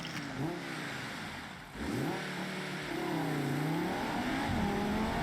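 Audi 2.5 TFSI inline-five engine in the BeamNG driving game revs steadily, its pitch climbing and dipping in waves as the throttle is worked, close and fairly loud throughout.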